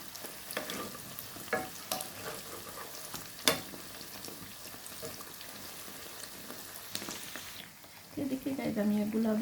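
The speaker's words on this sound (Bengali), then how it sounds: "আমি এগুলো ভেজে নিচ্ছি।" Nimki snacks frying in oil, a steady close sizzle with scattered clicks and pops from turning the pieces, then a voice talking over the sizzle near the end.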